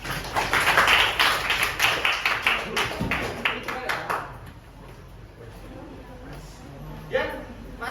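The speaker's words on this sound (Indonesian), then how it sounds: "Ya, Soekarno. Tepuk tangan." A classroom of students clapping together, a burst of quick, overlapping claps that peaks early and fades out by midway, followed by quieter room sound and a voice.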